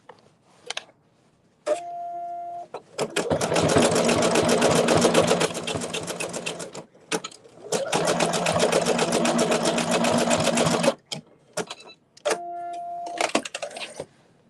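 A sewing machine zigzag-stitches fabric rope in two long, loud, steady whirring runs, with short bursts of motor and mechanical clicks before and after.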